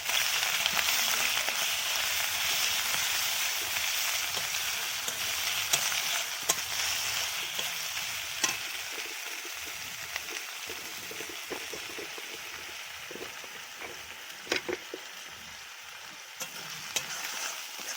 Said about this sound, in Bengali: ভালো করে নাড়াচাড়া করে নিচ্ছি, মশলাগুলোকে ভাজা ভাজা করে নিচ্ছি